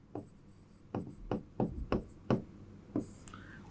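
Chalk or a marker writes on a board in a classroom chemistry lesson, making a series of short scratchy strokes in an irregular rhythm, close and moderately loud.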